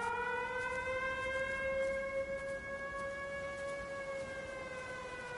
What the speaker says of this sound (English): Never been a good siren